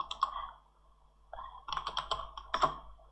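Computer keyboard keys being pressed, including a Ctrl+Space shortcut, a few soft close clicks in small clusters with pauses between them, quiet and with no talk.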